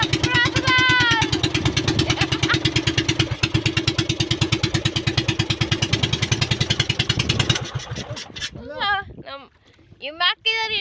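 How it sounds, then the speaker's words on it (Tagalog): A small fishing boat engine, faulty and prone to stalling, putters in a fast, steady rhythm, then cuts out abruptly, and people start talking once it goes quiet. "Patay-patay yung makina guys."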